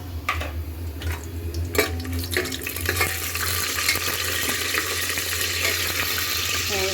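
Whole spices and meat frying in a little oil in a pressure cooker, a steady sizzle with scraping and stirring knocks from a utensil, close and fairly quiet.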